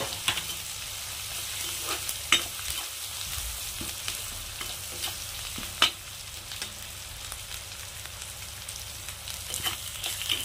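Ground spices with turmeric, garam masala and salt sizzle steadily in a pan on a gas stove, with a few sharp scrapes and clinks of stirring over the continuous frying hiss; no one talks.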